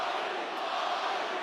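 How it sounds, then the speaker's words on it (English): An arena crowd at a Holly Holm vs Yana Santos fight roars continuously in support of Holm, a dense, loud wash of cheering and shouting with no gaps during the brief moment. "Listen to this pro-Holly crowd."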